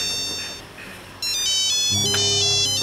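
A mobile phone rings with an electronic melodic ringtone, starting faint and then jumping to a loud, close, repeating tune with stepped tones and a bass beat.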